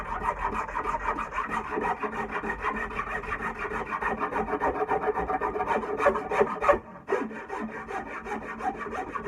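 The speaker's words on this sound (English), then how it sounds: "So this is just smoothing out all those rasp, those big creases that the rasp left, and it does it fairly fast" Hand tool smoothing out rasp marks on a wooden handle, a steady rhythmic scraping rasp of back-and-forth strokes, close and continuous, with a brief pause near the end.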